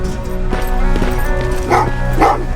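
Dogs barking and yipping in the game Terminator: Resistance, a run of sharp repeated barks with whimpery yips, fairly close over a steady background of game music and ambience.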